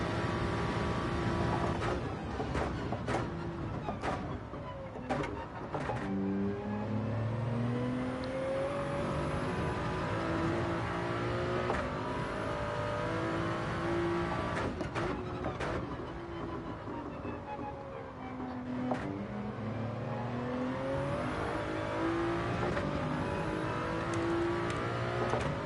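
Toyota Supra race car engine in a racing video game, a steady, loud drone with rising and falling gear-change pitch sweeps running throughout, while other cars' engines whir close alongside in the slipstream.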